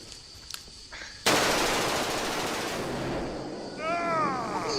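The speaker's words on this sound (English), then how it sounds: "You said it was a stun grenade." A stun grenade going off during a car show stunt, a sudden loud blast followed by a sustained hissing roar that slowly fades, with brief voices and faint noises before it.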